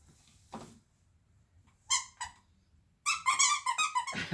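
A stuffed toy squeaks in short bursts: a faint chirp, then two clear squeaks, then a rapid run of loud high squeaks up close, with quiet gaps between.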